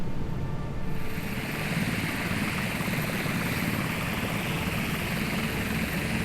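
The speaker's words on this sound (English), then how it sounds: "The helicopter has reached the mouth of the Suez and begins a methodical sweep." Helicopter rotors in the naval video game Sea Power thrum in a loud, steady, close chop, sustained without pause.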